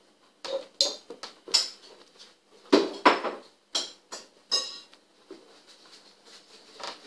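Soup ingredients being mixed in a bowl give a run of sharp, close clinks and taps in irregular bursts, with short pauses between strokes and no voices.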